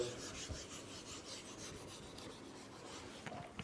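Writing is rubbed off a board during a chemistry lesson, producing a steady, close scrubbing rasp that runs almost continuously with a few brief knocks near the end, and nobody speaks.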